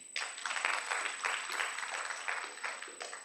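An audience claps steadily at a conference, a dense, even wash of hand-claps that holds for several seconds with no voices over it.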